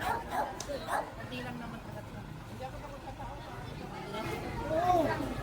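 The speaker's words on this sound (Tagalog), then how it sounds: "Ang daming aso." Several dogs bark and yip at a distance over low background rumble, with a whining yelp near the end.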